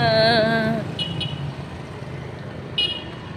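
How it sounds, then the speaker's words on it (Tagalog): A car horn honks in one sustained blast, then fades into steady traffic rumble with a couple of brief distant beeps. "Huwag na kayong bumusina dahil hindi naman sasakay ang kahingal."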